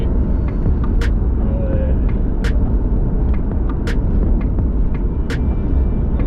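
A Range Rover Evoque with a DPF soot restriction fault cruises on the motorway at about 60, giving a steady loud cabin rumble of road and engine noise with faint ticks on top.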